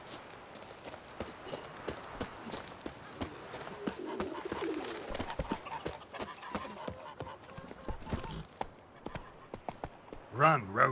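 Geralt's horse Roach gallops in The Witcher 3, quick rhythmic hoofbeats running steadily under birdsong and cooing pigeons, with voices speaking over it.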